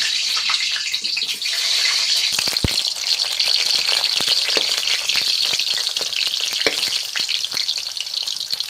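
Potatoes frying in hot oil, a dense continuous sizzle with scattered crackles and an occasional clack of a utensil.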